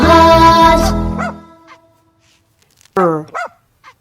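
A puppy in a children's phonics song gives a short bark, and a couple more sharp yips follow after a pause. A sung melodic tone plays under the opening.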